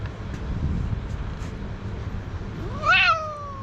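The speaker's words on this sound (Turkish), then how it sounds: "Ne Konuşkan kedi bu ha." A single clear meow rises and falls near the end, close and distinct, over a quiet low background rumble.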